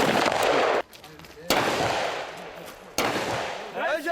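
Rifle shots ring out during a South Korean military shooting drill under adverse conditions at the JSA front line, with three sharp, loud reports a little over a second apart, each trailing into echo, while a narrator speaks over them.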